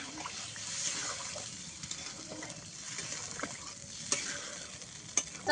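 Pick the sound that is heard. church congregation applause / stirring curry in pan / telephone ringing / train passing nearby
stirring curry in pan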